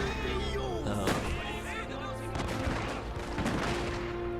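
Matchlock gunner units in the Shogun 2 strategy game firing on rapid reload, a dense string of overlapping musket shots and crackling volleys over a droning battle-music bed.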